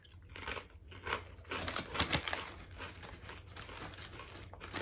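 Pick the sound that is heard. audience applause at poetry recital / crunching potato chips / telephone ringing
crunching potato chips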